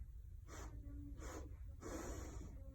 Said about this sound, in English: But take 3 sniffs in through your nose